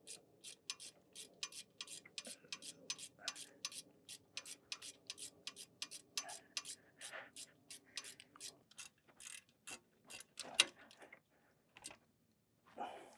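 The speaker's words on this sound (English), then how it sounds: "I have a little ratcheting wrench" A small ratcheting wrench works an 8mm bolt during a 2004–2008 Ford F150 4.6L/5.4L engine mount job, quiet rapid clicking in short bursts with brief pauses, close and alone.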